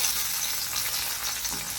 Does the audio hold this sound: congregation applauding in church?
no